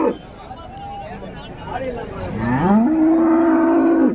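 Dairy cattle at a livestock market in Karimangalam, Dharmapuri district, giving a long loud low moo that rises and holds, with people talking in the background.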